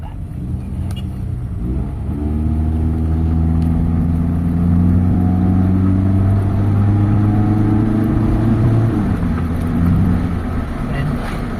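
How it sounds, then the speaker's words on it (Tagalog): Engine of an automatic Toyota GLI on a test drive, a steady close hum whose pitch rises smoothly as the car accelerates, then holds and eases off. "test drive natin itong Toyota GLI na automatic transmission"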